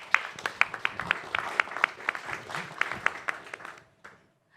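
Audience applause at a startup pitching forum, a burst of dense clapping with sharp individual claps that holds steady for about four seconds, then thins and fades out near the end.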